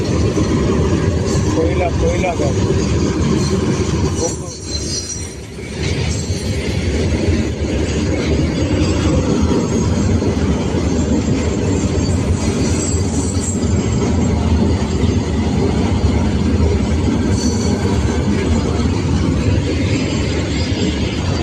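A long freight train rumbles past close by, steady heavy rolling with rhythmic wheel clatter and occasional squeals, with talk faintly mixed in.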